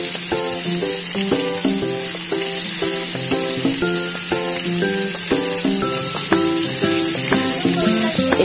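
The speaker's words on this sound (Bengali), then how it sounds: "একটু তোমাদের সময় নিয়ে একটু উল্টে পাল্টে দিতে হবে।" Pieces of chicken fry sizzling steadily in a pan, a continuous close hiss under a melodic background tune, with no talking.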